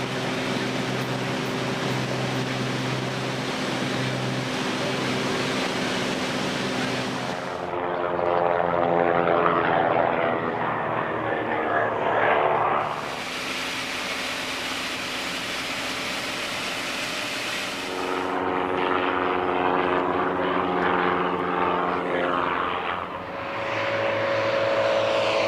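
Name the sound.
propeller aircraft air racing over airfield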